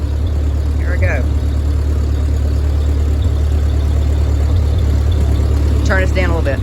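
A 1946 Ford 2N tractor engine idles steadily and loud throughout, a constant low rumble as the clutch is eased out slowly, with brief speech over it.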